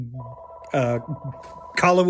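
A landline telephone rings indoors in brief warbling electronic bursts, with someone talking close by between and over the rings.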